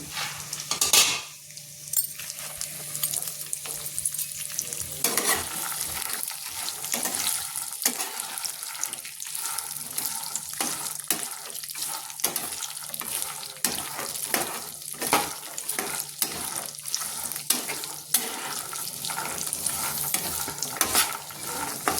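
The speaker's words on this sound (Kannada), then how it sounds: "ಫ್ರೈ ಆಗಲಿ" Steady crackling and sizzling of chana dal frying in hot oil, with occasional stirring scrapes and clinks throughout, close and continuous with no talking.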